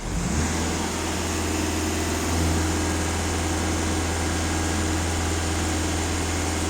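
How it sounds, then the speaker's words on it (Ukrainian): Skoda Octavia A7 2.0 TDI diesel engine held at full throttle, a steady loud drone with a strong low hum and hiss that barely changes, with a brief swell around two and a half seconds and no talk. "Ще краще стало, даю газ в пол."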